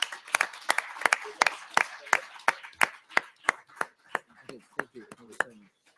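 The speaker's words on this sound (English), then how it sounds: "I would like to ask the audience to give the panelists a round of applause" Round of applause from a conference audience for the panelists at a woody biomass energy event, scattered individual claps that thin out toward the end, fairly near and moderately loud.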